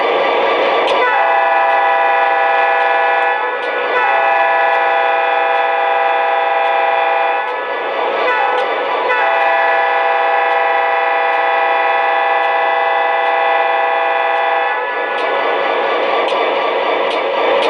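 An MTH model Ohio Central GP40 locomotive horn sounds in long, loud sustained blasts with short breaks between them, the steady chord droning on almost without pause.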